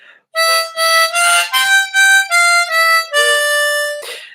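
Opening phrase of Ode to Joy on a diatonic harmonica, a run of about eight distinct, evenly spaced notes with brief gaps between them, close and clear, with a longer held note near the end.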